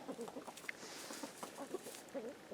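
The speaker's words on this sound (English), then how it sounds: "I actually have to carry the chickens over to our fenced area here" Backyard chickens cluck softly in short, scattered bursts while being let out to play on a snowy winter day, the calls fairly quiet and close with no talking.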